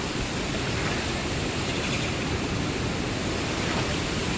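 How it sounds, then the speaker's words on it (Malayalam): Floodwater overflowing and rushing across a road in Kerala during heavy rain, a loud, steady broadband roar of flowing water that continues without a break. "ഇത് റോഡാണ്. റോഡൊക്കെ നിറഞ്ഞ് കവിഞ്ഞ് ഒഴുകാണ്."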